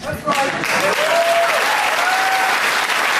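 A studio audience applauds loudly and continuously for several seconds, a dense wash of clapping with a voice briefly audible over it.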